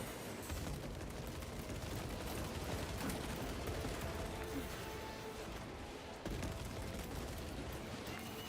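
The Artificer bolt rifle fires in the video game Space Marine 2, in dense rapid bursts over constant explosive battle noise. A voice speaks faintly underneath.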